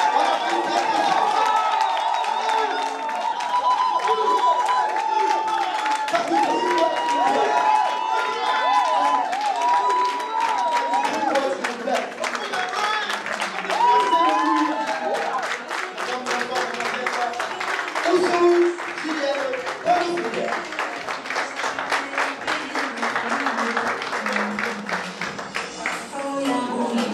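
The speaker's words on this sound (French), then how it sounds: "On acclame très très fort." Wedding guests at a church ceremony applaud and cheer loudly for the bride, a dense, sustained wall of clapping with crowd shouts, with a voice and music running over it throughout.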